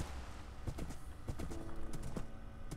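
Horse hooves clip-clop in the Minecraft video game, a loose series of sharp taps spread over a few seconds, fairly close, with steady game background and no talk.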